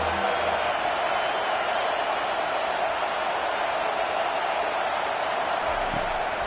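A football stadium crowd roars for the defense on a big third down, a loud, steady, dense wash of cheering noise that holds without a break from start to finish.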